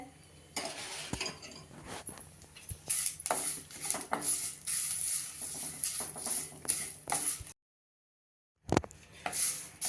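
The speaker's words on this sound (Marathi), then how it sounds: "कडीलिंब छान खुळखुळ वाजायला लागलाय म्हणजे अगदी छान आपला भाजला गेलेला आहे" Curry leaves crackle and rattle as they roast in a teaspoon of oil in a pan, a busy run of close, sharp crackles and pops with a short silent gap near the end.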